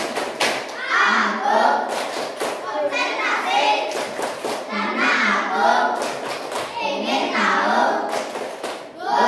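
Schoolchildren doing a rhythmic counting clap routine in a classroom, clustered bursts of claps repeating in groups, mixed with children's voices chanting along, near and fairly loud throughout.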